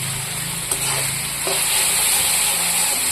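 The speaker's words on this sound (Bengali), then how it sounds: "এখন ভাজা ভাজা করবো অনেক সময়।" Spice masala with turmeric and salt frying in a pan for a local chicken curry gives a steady, close sizzle, broken by a few soft scrapes of stirring, with no voices.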